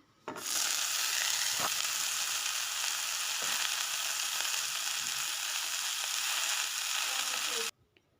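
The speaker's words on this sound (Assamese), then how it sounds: "এতিয়া অকণমান তেল দি এইখিনি গৰম হোৱাৰ পিছত এইখিনি দি ল'ম" Chopped water hyacinth flowers and ginger hit hot oil in a wok over a gas flame, bursting into a loud, steady sizzle that holds evenly before stopping abruptly.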